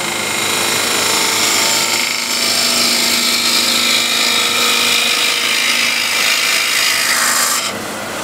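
A hand gouge scooping out the inside of a wooden bowl, a steady loud rasping scrape against the wood that runs on continuously without pause, close up, with no talking.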